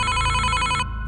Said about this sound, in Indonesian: Ponselnya kembali berdering dengan nyaring.